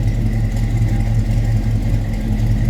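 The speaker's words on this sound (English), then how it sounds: "Gets that little rumble out of that Crate 350 in here." A crate 350 V8 idles in a 1970 Chevrolet Caprice Kingswood wagon, giving a steady, close, low rumble with an even pulse and no revving.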